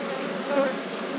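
Honey bees buzz at an open hive during a brood inspection, a close, steady droning hum filling the short moment without voices.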